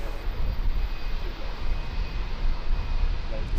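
An Alliance Airlines Fokker 70 jet in pink livery at Brisbane Airport, heard as a continuous, moderately loud engine drone with a low rumble that pulses slightly and never lets up.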